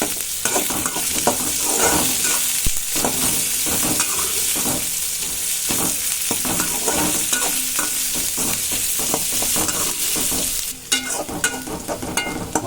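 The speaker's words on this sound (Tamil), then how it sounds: "எல்லாத்தையும் போட்டு நல்லா நம்ம வதக்கிக்கலாம்." Onion, garlic and curry leaves saute in a pan for a Tamil raw banana fry, giving a steady close sizzle with repeated scraping stirs throughout and no talk.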